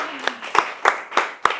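A handful of sharp, separate hand claps, about five in steady rhythm a third of a second apart, rise over murmured talk at a Ljubljana public talk on non-toxic living as the audience begins thanking the guests.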